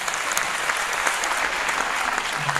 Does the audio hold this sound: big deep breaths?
no